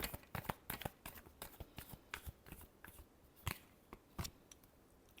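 Tarot cards shuffled by hand, a quick series of sharp riffling snaps and soft flicks, close and quiet, irregular in rhythm and with no talking.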